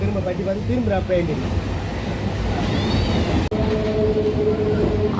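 An Arakkonam EMU local train runs near Chennai, a steady loud rumble of wheels and carriage noise throughout, with a brief squeal, a sharp drop for a moment, and a low hum.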